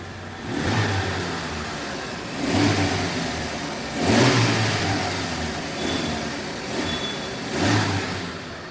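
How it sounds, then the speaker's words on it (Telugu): A Maruti Suzuki Super Carry mini truck's mid-pitched engine revs up several times in a row, each rise swelling and easing back, loud and close with no talking. "సో ఒకసారి అయితే ఇంజన్ సౌండ్ అయితే వినండి"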